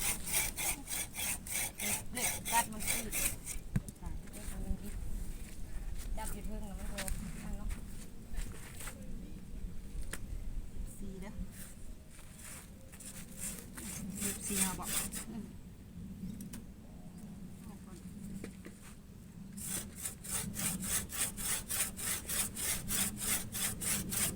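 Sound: hand sawing wood

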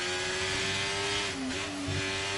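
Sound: race car driving through Monaco circuit

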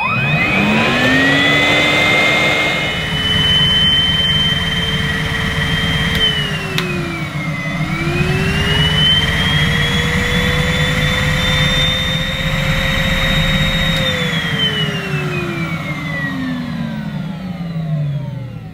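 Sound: Numatic Henry Cordless vacuum cleaner running

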